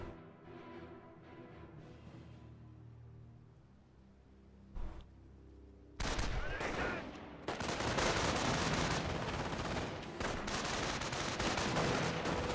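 Heavy automatic MG42 fire erupts in a Company of Heroes battle, sustained loud bursts mixed with other gunshots and explosions after a quieter opening.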